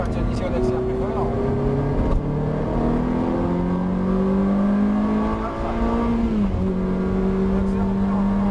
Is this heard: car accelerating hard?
yes